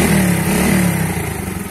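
A motorcycle engine running steadily after its piston and rings were replaced, a loud, close, even idle with a slightly rougher pulse toward the end, alone without talk.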